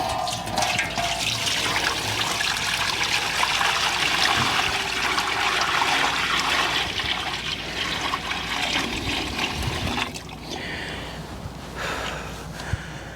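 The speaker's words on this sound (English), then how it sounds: "let's get some water in the pan." Water from a tap pours and splashes into a pan for a BBQ cooker, a continuous gushing stream that drops off and changes near the end, with faint background noise.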